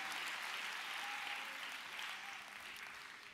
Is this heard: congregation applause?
yes